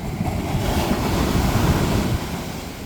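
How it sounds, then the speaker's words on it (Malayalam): Sea waves break and wash up a beach, pushing sand ashore in a steady, continuous surf roar, with wind buffeting the microphone and no voices. "ഈ തിരമാല അടിക്കുമ്പോൾ മണ്ണ് കരയിലേക്ക് ഇങ്ങനെ കയറി വന്നുകൊണ്ടേയിരിക്കും"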